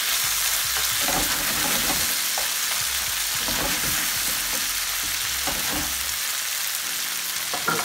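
Crayfish fry in hot oil while being stirred, giving a loud, continuous sizzle broken by repeated scraping stirs from start to finish.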